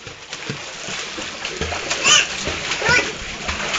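A child swimming in a pool, splashing and sloshing the water in repeated bursts nearby, with children's voices talking over the splashes.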